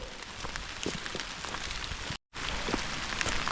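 Steady rain pattering on leaves and ground in a pitch-dark Appalachian forest at night, a dense continuous hiss with scattered distinct drops, briefly cutting to silence before resuming.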